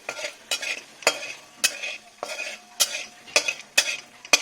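Sugar and whole cumin fry in hot oil in a pan while a utensil stirs them, giving repeated scraping strokes at an even pace over a soft, continuous sizzle, heard close up with no talking.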